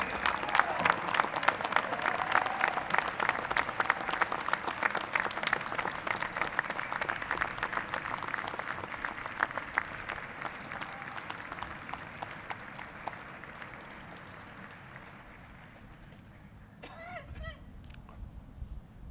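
Graduates at the 2014 JCU commencement ceremony applaud their families and professors, a long, dense wash of clapping from a large crowd that holds steady before thinning and fading out near the end.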